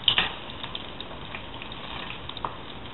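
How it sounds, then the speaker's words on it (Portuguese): Banana slices frying in a pan, a soft, steady sizzle and crackle with occasional pops, fairly quiet and close, with no talking. "tá aí a bananinha fritando"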